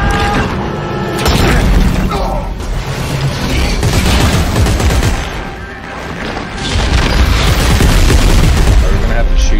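Explosions and heavy weapon fire from Dead Space 3 boom loudly and continuously, dense blasts layered with game effects, while players talk over the action.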